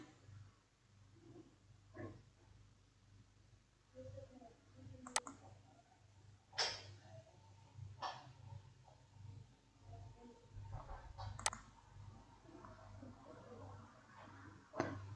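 Sparse mouse clicks while navigating a stock market website's futures and options section, isolated sharp ticks spaced a few seconds apart over a low steady hum, no talking.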